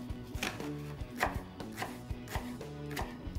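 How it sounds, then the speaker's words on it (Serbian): A knife finely chops a piece of leek on a board in a quick, regular series of close, crisp knocks, roughly two per second, with no voices. "Iseći ćemo jedno parče praziluka, otprilike toliko. I njega ćemo isto sitno da seckamo."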